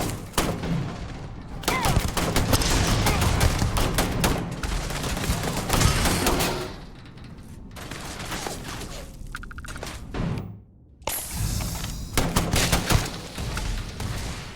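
Bursts of rapid gunfire in Starfield, loud automatic volleys and single shots cutting in and out with brief gaps and quieter stretches between them.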